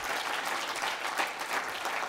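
An audience at the 2017 Voices of Solidarity event applauds, a dense, steady patter of many hands clapping together with no voices over it.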